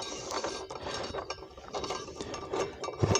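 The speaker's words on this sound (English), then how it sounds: "take the screw or the bolt and you go ahead and tighten it down." A hand ratchet tightens a bolt on a Chicago Electric sliding double bevel compound miter saw. It gives a quick, uneven run of metallic clicks, fairly close and quiet.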